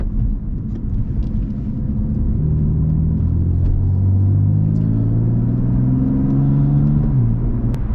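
A 2018 F80 BMW M3 Competition with DCT gearbox accelerating hard, loud droning engine note climbing steadily in pitch before a shift drops it, heard from inside the car with no talk.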